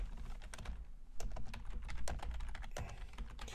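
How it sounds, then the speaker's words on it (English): Numbers typed out on a computer keyboard: rapid, close clacking keystrokes in quick uneven runs, with a brief pause near the one-second mark, alone without speech. "I'm just going to get all these numbers typed out"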